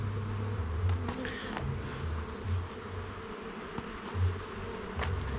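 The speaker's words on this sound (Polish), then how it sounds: "zobaczcie pełna ramka pszczoły obsiadują" Honeybees crowd a full hive frame during an inspection, giving a close, steady buzzing drone with slight swells in intensity and no voices.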